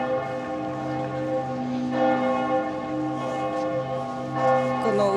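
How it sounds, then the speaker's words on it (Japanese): Church bells ring out at half past eleven in Florence, a steady resonant peal with layered overtones and periodic fresh strikes, heard alone from a short distance. "11時半に鐘が鳴るみたいです"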